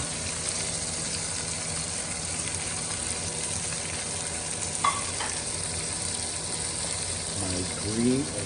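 Yellow peppers frying with shallots in a hot pan, giving a steady, fairly loud broadband sizzle throughout with a brief utensil scrape near the middle and some stirring toward the end.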